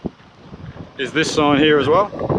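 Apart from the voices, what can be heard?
wind blowing into the microphone outdoors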